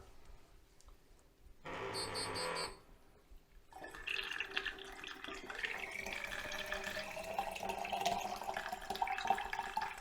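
Kodak X-Tol developer liquid is poured for developing Fomopan 100 film, a steady, splashy trickling stream that runs for several seconds after a brief louder rush of liquid, close and clear.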